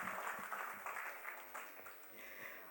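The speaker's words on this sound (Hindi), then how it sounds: "इनके लिए भी उतनी तालियां हो जाए।" Soft applause from a concert audience at a live music show honouring the musicians and conductor, a brief patter of clapping heard at a distance and fairly faint.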